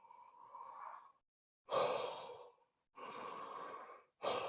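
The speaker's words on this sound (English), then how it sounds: "Activate your yawning reflex. And make yourself yawn." A person deliberately triggers yawns during a breathwork session, producing long, breathy exhaled yawns with sighing tones in several separate bursts, each followed by a short pause, close and clear with no talking.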